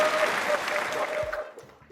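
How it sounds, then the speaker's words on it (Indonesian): An audience applauds briefly, a soft clatter of clapping that fades out within two seconds as voices come in. "tepuk tangan lagi dong"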